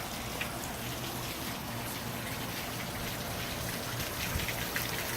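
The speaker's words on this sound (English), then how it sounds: "Got the water running." Water gushes steadily into the engine of a 1986 Sea Ray boat, a faint, constant hiss and splash with no breaks, heard close and alone.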